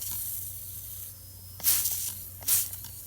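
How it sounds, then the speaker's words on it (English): Two short bursts of spray hiss from a can aimed at a flat Polaris four-wheeler tire, each lasting under a second, close to the microphone over a low background hum. "As you're spraying it, it's the air, the pressure on the inside is pushing it out."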